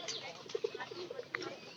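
Pigeons in a loft give soft, low cooing calls in a short run of a few notes, faint and close, with a brief higher chirp near the end.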